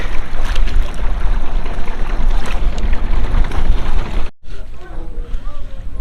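A trawler boat sits on open floodwater around a village, a steady rush of wind and water noise with a low rumble filling the scene, briefly cutting out near the end before resuming.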